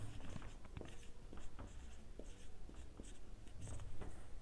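Chalk or pen scratching across a board in a chemistry class, written in short strokes and taps with small pauses, close and fairly quiet, with no talking over it.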